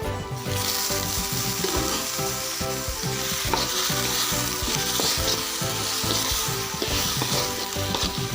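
Masala frying in a pan for a red meat gravy, a dense continuous sizzle with repeated stirring scrapes of a spoon against the pan, close and steady throughout with no talk.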